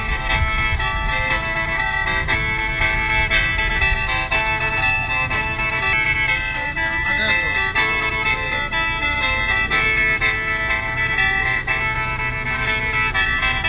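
A khaen, the Lao bamboo free-reed mouth organ, plays a Lam Toei melody in a sustained, continuous stream of reedy drone and tune, loud and close throughout, with no talking.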